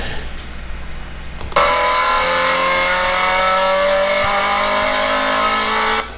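A Scion FR-S sports car engine roars at full throttle on track after a sharp onset, holding a loud, steady high-pitched wail with rising harmonics, heard from inside.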